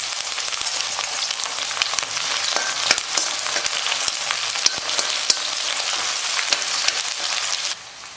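About fifteen small onions and a few curry leaves fry in oil in a pan for manathakkali vathal kuzhambu, making a loud, steady sizzle with frequent sharp crackles and pops. The sizzle drops off abruptly near the end.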